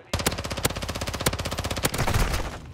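Rapid automatic gunfire from Call of Duty: Modern Warfare 2 played on console, a loud continuous burst of shots with a few heavier single cracks punctuating the stream, no voices.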